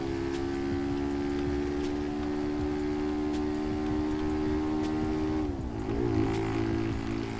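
A Pop 110i motorcycle in the game GTA V accelerates with a steady, buzzing engine tone that holds level, then dips sharply and recovers as the revs change.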